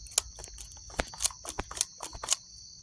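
An old, worn motorcycle throttle grip is twisted up close, making a quiet series of dry, crunchy gritty clicks in an irregular rhythm.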